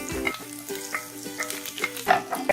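Ginger, garlic and chopped green chilies fry in a pan for radish greens and moong dal saag, a steady close sizzle with a few soft scraping stirs, no voices over it.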